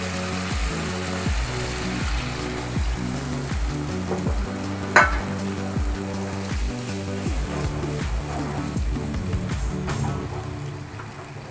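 Pomfret tomato curry sizzles and bubbles in a pan right after half a bowl of water is added, a steady close frying hiss with a rhythmic repeating stir-like pulse throughout and one sharp clink midway.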